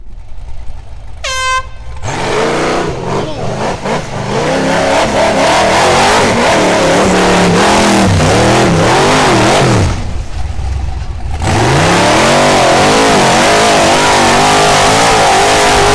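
A car with a 6-liter LS engine and TH400 transmission revs hard and loud, rising and falling engine surges close by, preceded by a brief horn blast.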